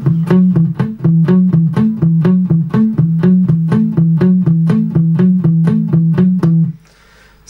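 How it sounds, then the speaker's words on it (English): A bouncy, single-note electric guitar riff played on a low string, with rapid repeated plucked notes in a steady funky rhythm, ending abruptly. "plays a single note riff during the verse that sounds like this"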